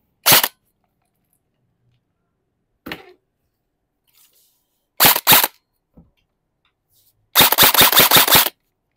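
An E&C HK416 full-metal airsoft AEG rifle fires close by: a few sharp single and double shots with pauses between them, then a rapid full-auto burst of about six crisp shots near the end, with no voices.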